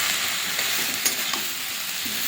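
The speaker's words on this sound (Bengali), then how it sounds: "জিরে ধনের বাটা টমাটো এইভাবে নাড়াচাড়া করে নিয়েছি।" Bottle gourd greens cook in a pan with cumin-coriander paste and tomato, making a brief, continuous sizzle with soft scraping as the mixture is stirred.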